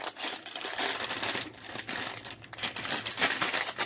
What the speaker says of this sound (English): you want to open the bag and you want to pour out about half the bag of carrots